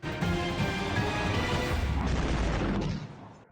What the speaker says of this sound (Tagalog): Dumagundong ang pagsabog sa West Tehran sa Iran